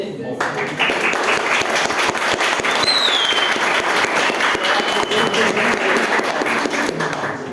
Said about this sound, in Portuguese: queria pedir umas palmas para os doutores aí